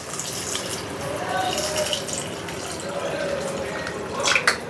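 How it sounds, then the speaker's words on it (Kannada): Water poured into a pot of salted hill gooseberries gives a steady, close splashing and trickling that builds slightly toward the end. "ಇವಾಗ ನೀರು ಸೇರಿಸ್ಕೊತಾ ಇದ್ದೀನಿ ಇದಕ್ಕೆ"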